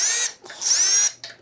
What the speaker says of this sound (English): we'll just go along with the deburring tool.